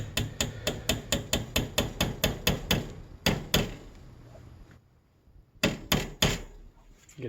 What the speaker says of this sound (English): tap it with the hammer.